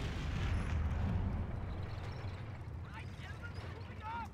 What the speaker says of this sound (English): They really do like to bombard us